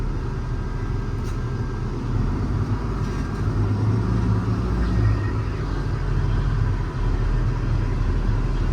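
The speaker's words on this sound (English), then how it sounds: "Plenty of power, shifts through the gears nice and smooth, rides pretty well down the road." An International 4400 service truck with a Cummins engine drives down the road, a steady low rumble of engine and road noise heard from inside the cab, with subtle pitch changes as it moves through the gears.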